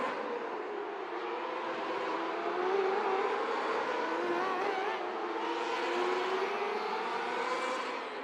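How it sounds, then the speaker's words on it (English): Race car engines at the Gambler's Classic in Atlantic City, New Jersey, driving laps around the racetrack, a steady loud roar with rising and falling engine pitch as cars circle continuously without pause. "Tim Ewell is out on the racetrack in the number 56"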